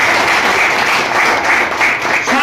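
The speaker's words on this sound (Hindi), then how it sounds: "तो इनके लिए एक जोरदार तालियां होनी चाहिए" An audience at a community event honouring soldiers and Agniveer recruits breaks into loud, sustained applause, a continuous roar of many hands clapping at close range.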